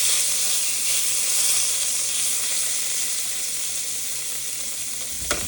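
Pork tenderloin searing in a hot pan gives a steady, loud sizzle and hiss that holds throughout, close up, with a brief clink near the end and no talking.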